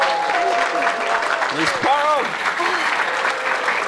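Game-show audience applause, a dense steady wash of clapping that runs the whole time under a host's voice.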